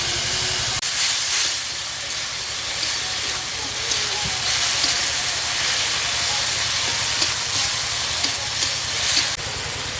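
Ground paste of two tomatoes hits a pan of frying ginger and spices, giving a steady, loud hiss and sizzle that runs unbroken for the full stretch with a low background rumble.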